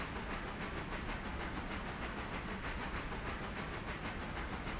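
A steam locomotive starts to move in the Railroader train game, giving a steady, dense hiss with a faint rhythmic chuffing pulse that holds at an even loudness throughout, with no talk.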